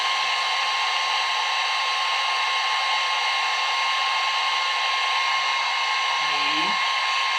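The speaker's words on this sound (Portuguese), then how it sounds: "acelera a secagem com o secador de cabelos que eu tenho sempre do meu lado" A hair dryer blows steadily at close range while paint dries on a rose painting made with lipstick, its broadband whoosh constant throughout, with a brief faint voice-like sound near the end.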